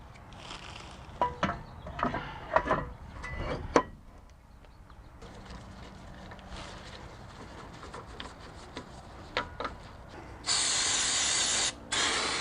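Cleaner sprayed onto the brake parts of a BMW X3 E83 during a brake job comes as one close, loud, steady hiss lasting over a second, after quieter handling clatter and faint background birdsong.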